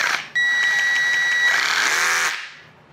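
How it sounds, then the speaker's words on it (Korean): A Metabo hammer drill runs free with no load, its rapid hammering blow giving a fast, buzzing whir close up that holds steady for about two seconds, then winds down. "딴 브랜드보다 좀 치는 소리가 좀 빠르더라고요."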